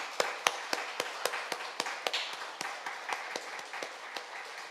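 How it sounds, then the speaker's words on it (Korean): A church congregation claps in steady, evenly spaced unison beats over a soft background wash, moderately loud and continuous throughout, with no talking. "박수를 우리 하나님께 올리겠습니다"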